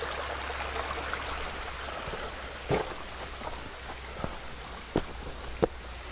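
A small brook or creek flows beneath a little stone bridge on a wooded state park trail, giving a steady soft wash of water with a few brief knocks, probably footsteps, standing out near the end.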